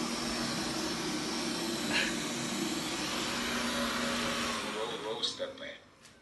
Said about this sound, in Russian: Это пылесос.